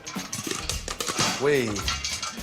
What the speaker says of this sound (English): when all that little pitter-patter stops, you know your popcorn is cooked